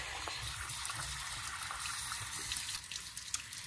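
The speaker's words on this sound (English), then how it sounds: "Rinse thoroughly. I like to use both hot and cold water in my rinsing" A wet felted piece being rinsed under a running tap with hot and cold water, a steady rushing gush of water splashing alone throughout, close and fairly quiet.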